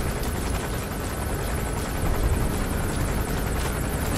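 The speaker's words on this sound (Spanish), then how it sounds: "¿Dónde está el helicóptero? Que no lo veo." Rotor thudding and turbine whine from a helicopter in Metal Gear Solid 5: The Phantom Pain, continuous and fairly close, swelling slightly midway, alone without talk.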